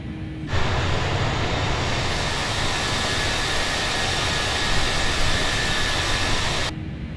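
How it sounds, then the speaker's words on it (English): Steady, loud airplane engine drone from an old-school plane in a flight simulator game, a continuous broadband roar that holds evenly for about six seconds, then cuts off. "I do love flying this old school plane, to be fair."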